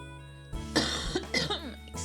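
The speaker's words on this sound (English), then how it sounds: "You guys might hear me coughing a little bit." Someone coughs several times in a short, rough series, close to the listener, over a steady electronic hum.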